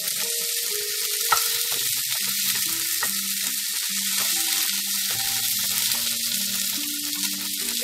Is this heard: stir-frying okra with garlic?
yes